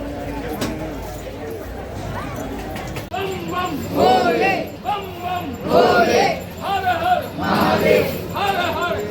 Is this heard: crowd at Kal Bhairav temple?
yes